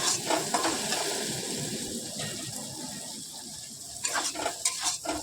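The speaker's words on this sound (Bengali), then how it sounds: "আলু, পেঁয়াজ, টমেটো, রসুন পুরো সেদ্ধ হয়ে গেছে, সুন্দর ভাজাও হয়ে গেছে।" Potatoes, onion, tomato and garlic fry in a pan for a chorchori, a soft continuous sizzle under scraping stirs, with a few sharper utensil clinks toward the end.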